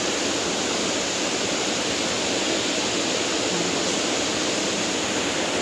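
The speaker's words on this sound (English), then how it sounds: "So this is we'll call it a three-pole waterfall." A three-tiered waterfall pouring into a cave in Ha Giang, Vietnam, roars as a loud, constant, dense rush of water close by, unbroken and with no voices.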